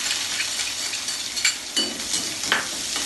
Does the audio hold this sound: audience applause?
no